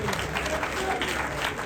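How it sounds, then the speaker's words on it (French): Audience applause for students at a workers' celebration, a dense, continuous patter of many hands at moderate loudness, with some crowd voices underneath. "Je voudrais que vous les applaudissiez."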